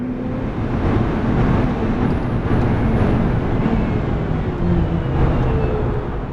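Porsche racing cars at speed on the Dijon-Prenois circuit, a steady loud engine roar with a faint high whine, heard from trackside at close range and continuing throughout.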